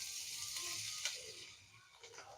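Chopped green chili and ginger hit melted butter in a pan, a soft, even hiss of frying that dips slightly toward the end, with no talking.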